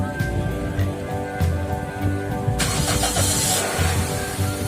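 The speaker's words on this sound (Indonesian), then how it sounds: "kita bisa langsung nyalakan mobil yang kehabisan setrum" A car engine cranks and catches after a jump-start from another car's battery, with rhythmic starter pulses, then a sudden louder burst as it fires and settles into a running idle nearby.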